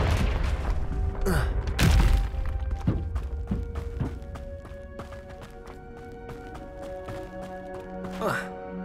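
Confringo spell blasts in the Hogwarts Legacy video game: a few sharp thumping impacts near the start and another near the end, with fainter ambient game sound in between.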